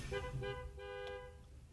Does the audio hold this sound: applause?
no